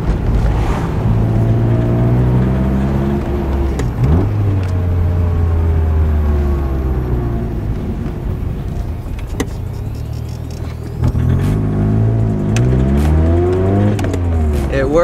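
A Nissan 240SX S13 driving through the gears: the engine revs rise, drop sharply at each shift, then climb again. The sound is loud and close, recorded from inside the car.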